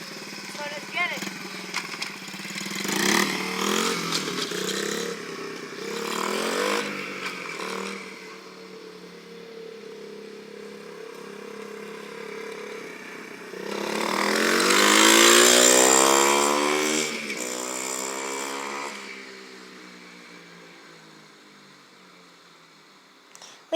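A small dirt bike engine running while being ridden, its buzzy drone rising and falling as the throttle changes and swelling loudest near the middle, with a person talking over it.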